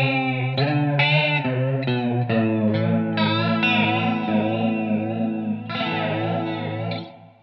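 Rhythmic guitar chords run through the flanger setting of a Blackstar ID:CORE V4 stereo amp, strummed repeatedly with a sweeping, swirling jet-like tone that pulses across several bars before fading.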